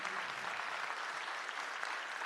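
A folk song and music festival audience in Tonara applauds in solidarity with a grieving community, a steady, fairly distant wash of clapping throughout.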